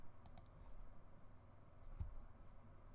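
Quiet computer mouse and keyboard clicks during website editing, a few light, faint clicks near the start and one soft thump later over low room noise.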